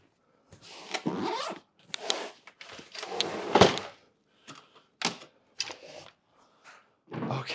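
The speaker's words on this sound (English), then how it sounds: "Let me just zip up these bags." Bags being zipped shut in a cluttered studio, several quick ripping zip strokes in bursts separated by short pauses, close and fairly quiet.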